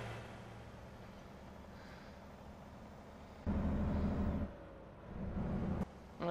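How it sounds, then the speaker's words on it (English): Engine drone and road rumble from a truck in American Truck Simulator, a low steady hum that swells louder in two bursts as the engine revs, faint and even otherwise. "This truck is kinda loud a little bit"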